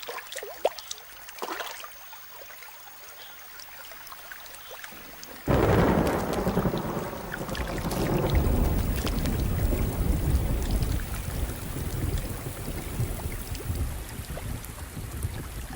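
Heavy rain pours down with rumbling thunder in a storm where birds are nesting; after a quiet, faint opening, a loud downpour bursts in and continues steadily, dense and close.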